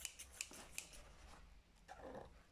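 Quiet, close snipping and crinkling as scissors cut through packaging, a few sharp clicks scattered over soft rustling.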